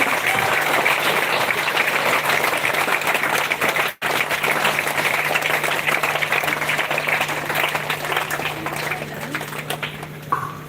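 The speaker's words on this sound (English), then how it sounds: "A more round of applause to make it a history for our school," Sustained round of applause from a crowd at a school Independence Day celebration outdoors in light drizzle, a steady dense clapping roar lasting about ten seconds with a brief dropout early on and a low hum beneath.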